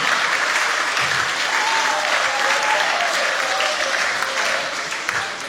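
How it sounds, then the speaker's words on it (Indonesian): An audience at a hymn evening breaks into sustained applause, a dense, loud wash of clapping from many hands that continues steadily and tapers slightly at the end. "kita beri aplaus untuk kita semuanya"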